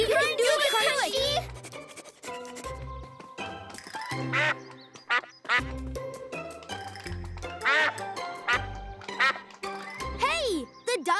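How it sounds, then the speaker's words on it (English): Cartoon ducks quack repeatedly in quick bursts near a bridge, mixed with playful sound effects, music and children's character voices. "Hey, the ducks like our bridge."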